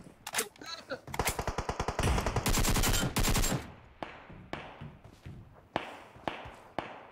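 Video game battle royale gunfire: dense automatic bursts fill the opening seconds, then scattered single shots ring out, loud and close, while a player talks over them.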